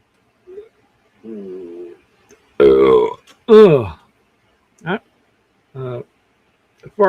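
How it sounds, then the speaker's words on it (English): A person belches several times in a row, loud and close, with short gaps between the burps and a couple of long drawn-out ones in the middle. "Belching from both ends."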